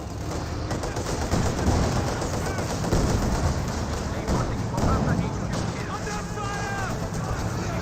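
An MG42 machine gun fires in Company of Heroes 2, its bursts mixed into dense battlefield gunfire beneath continuous commentary from a caster.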